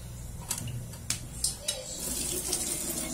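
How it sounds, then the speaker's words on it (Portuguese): Cooking water poured off a pot of boiled potatoes into a kitchen sink, a steady nearby splashing stream punctuated by a few sharp clinks of the pot, with faint room noise and no talk. "Então eu vou tirar um pouquinho da água, que eu não vou aproveitar essa água agora."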